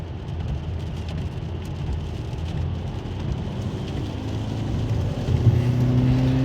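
Steady rainstorm heard from inside a self-driving car, a broad continuous wash of rain on the body and glass over a low road rumble, with a faint tonal hum rising near the end.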